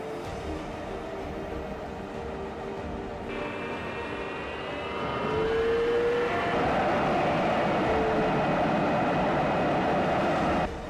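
F-104 jet engine in a flight simulator game spooling up to full throttle for takeoff, a steady roar with rising whine tones that grows louder midway and holds at full power.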